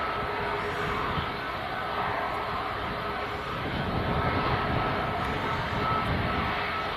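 Ryanair airliner pushing back for departure to Tenerife at Leeds Bradford Airport, its engines giving a steady, broad roar at moderate distance, continuous with no talk over it.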